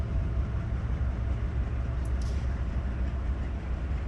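A train runs in Train Sim 2015, giving a continuous low rumble of rolling wheels and engine at moderate speed, with a brief higher squeal partway through.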